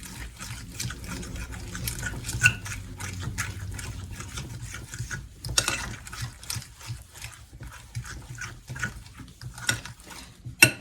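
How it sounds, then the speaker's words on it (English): Almond butter and banana are mashed and stirred together in a bowl, giving soft, irregular squelching and scraping with repeated tapping, fairly quiet and close. "So we're going to mix up this almond butter and the banana."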